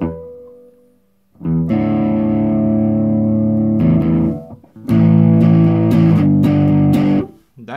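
Electric guitar through a Zoom G3Xn Dynamic Drive overdrive patch sustains loudly in two long strums, with a gritty, saturated tone and a short pause between them.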